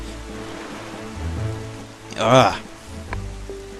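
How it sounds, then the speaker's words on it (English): Steady rain falls in The Legend of Zelda: The Wind Waker, a constant hiss throughout with a louder whooshing swell midway, while a person talks briefly over it. "It's raining. Yeah, it's very much raining."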